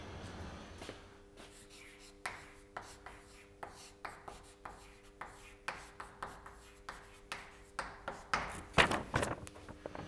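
Chalk or marker writes on a lecture board in a string of rhythmic strokes and taps, close and fairly quiet, with a faint steady hum and no talk.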